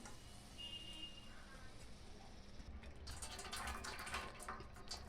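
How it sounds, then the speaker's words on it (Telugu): Hot water is strained off a pot of freshly boiled groundnuts into another vessel. A low kitchen murmur gives way to a louder splashing pour in the second half. "ఇందులో నీరు ఒక పాత్రలోకి ఆ విధంగా నీరు పోయేటట్టుగా వడపోసుకోవాలి"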